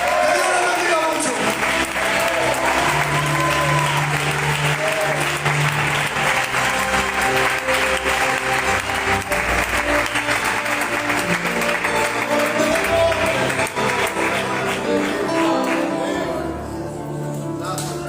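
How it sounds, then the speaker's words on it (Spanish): Sustained applause from a church congregation clapping in worship, a dense, steady roar of hands that runs loud and unbroken throughout before easing slightly at the very end. "Seguimos aplaudiendo a Dios, por favor."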